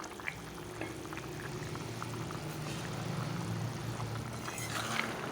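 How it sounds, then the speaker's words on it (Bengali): Fried eggs going into a simmering potato and eggplant curry, heard as a steady, low bubbling and sizzling across the whole stretch, moderately quiet, with faint small splashes and no talking. "এখন ভেজে রাখা ডিমগুলো দিয়ে দিচ্ছি।"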